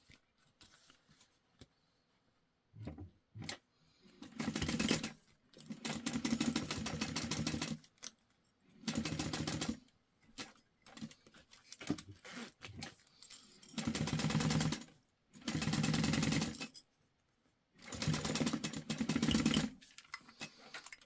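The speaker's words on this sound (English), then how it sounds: "Alright, so we're going to stitch this down." A sewing machine stitches a jelly vinyl pouch in several distinct bursts of motor-driven whirring, each a second or two long and separated by quiet pauses, close and clear with no talking.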